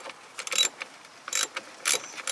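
A ratchet wrench working a 15 mm alternator bolt loose on a 1992 Jeep YJ with the 4.0L engine, giving short bursts of quick clicking separated by pauses, fairly close and with no talk.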